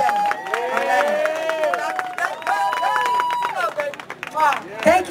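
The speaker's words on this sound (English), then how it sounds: "Give a round of applause, guys." An audience claps and cheers after a dance troupe's performance at an outdoor house-music event. The applause is dense and steady, with whoops and voices layered through the crowd noise.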